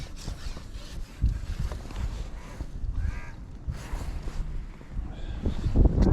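Gusty wind buffets the microphone outdoors at a fishing lake in wet weather, in uneven bursts, with faint birdlike calls and scattered knocks in the background.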